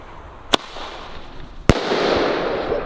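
A Thunderking 6-6 firecracker bursts with two sharp, loud bangs about a second apart, followed by a lingering rumble of ambient noise.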